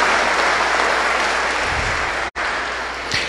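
Children and adults of a church congregation at a children's Mass clap together in a loud, sustained burst of applause, briefly cut off for an instant before continuing.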